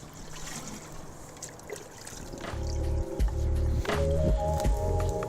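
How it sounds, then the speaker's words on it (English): Watering can dipped into a container of water in a garden, first a faint slosh, then gurgling and bubbling as it fills, close and growing louder over several seconds. "having something like this that you can just dip your can into"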